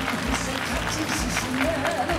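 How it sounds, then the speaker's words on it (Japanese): Dense applause from a crowd fills the clip, a steady wash of clapping with voices mixed in. "今一度大きな拍手をお願いいたします"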